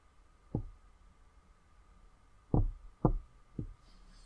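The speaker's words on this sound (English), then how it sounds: "There are a series of knocking sounds, and it could be an SOS signal executed somewhat imperfectly" Four dull knocks on a hard surface in a horror video game: a single knock, a pause, then three more in a loose, uneven rhythm. They sound faint and muffled over a low, quiet hum.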